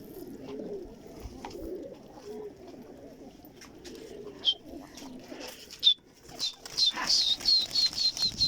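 Pigeons coo softly at first, then wings flap loudly in rapid repeated beats as birds take off nearby.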